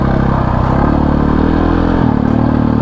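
A KTM 500 EXC-F four-stroke dirt bike runs in first gear, its loud, close engine thrumming and clattering steadily. The pitch shifts slightly as the throttle closes into strong engine braking.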